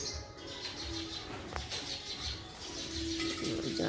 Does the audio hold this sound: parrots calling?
yes